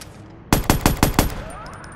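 A DLC firearm in the Watch Dogs video game fires five rapid, evenly spaced gunshots in quick succession, sharp and loud against a quiet background.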